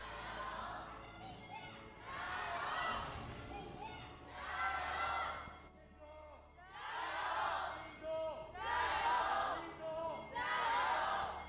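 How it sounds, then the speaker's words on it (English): At an esports arena during a League of Legends LPL match, a large crowd chants in repeated rhythmic bursts, rising and falling in waves at moderate distance, while shouts mix into the chanting. "Solid crowd chants as ever."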